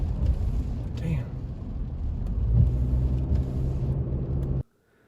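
A Toyota RAV4 with a rebuilt transmission showing shifting problems is driven on a road test, a steady low engine and road rumble with cabin noise that cuts off abruptly near the end.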